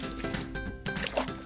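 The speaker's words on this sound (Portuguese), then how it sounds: "Preciso juntar essa terra e misturá-la com a água." Wet squelching and dripping as loose dirt is stirred into water to make a mud bath for a doll, with soft irregular splashes close by and no talking.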